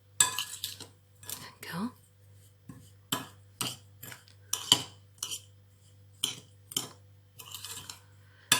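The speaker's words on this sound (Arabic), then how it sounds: "Je vais mélanger notre mélange." A spoon clinks and scrapes repeatedly against a bowl while almond filling for dziriet is mixed, producing sharp, evenly spaced taps close by with a low hum beneath and a brief spoken word.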